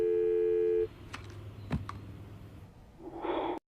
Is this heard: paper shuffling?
no